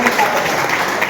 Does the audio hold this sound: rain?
no